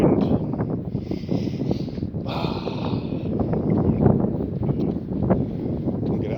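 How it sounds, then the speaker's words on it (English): Continuous low rumbling gusts buffeting the microphone, a dense blustery roar throughout with brief hissing swells, no clear voices. "I don't know if you can hear, it's a bit windy here."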